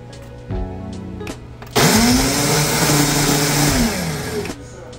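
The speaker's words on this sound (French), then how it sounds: "des oignons et on va y ajouter du ail et du ginger. On va mixer le tout." An electric blender purees onions, garlic and ginger into a paste, a loud steady whirring motor with a pitch that dips and then rises as the blade works through the mix, briefly preceded by a short pulse.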